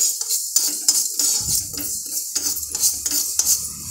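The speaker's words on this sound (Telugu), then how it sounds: "ఇప్పుడు ఇదే బాండ్లీలో చివరగా మెంతులు కూడా వేసి వేయించుకోవాలి." Fenugreek seeds dry-roasting in a metal kadai, stirred in quick rhythmic strokes that scrape and rattle against the pan close up, with a faint sizzle underneath.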